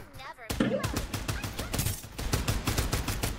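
Rapid automatic gunfire in the battle-royale shooter Farlight 84, dense bursts of sharp shots rattling steadily after a brief pause, loud and close, with a player's voice talking over parts of it.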